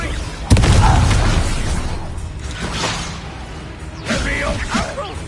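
A Confringo blasting spell in Hogwarts Legacy bursts with a sharp, loud boom early on, followed by whooshing magical effects and another burst of crackling action near the end, amid battle noise and voices.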